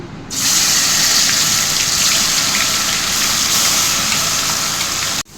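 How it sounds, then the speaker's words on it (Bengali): Onion and garlic paste drops into hot oil for a whole Bombay duck fish curry, bursting into a loud, dense, hissing sizzle that starts abruptly, holds steady for several seconds, then cuts off sharply. "গরম হয়ে গেছে, এবার পেঁয়াজ রসুন পেস্টটা দিয়ে দিচ্ছি।"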